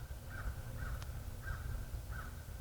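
A crow caws outdoors, four short hoarse calls at a steady pace, moderately distant over a low background rumble.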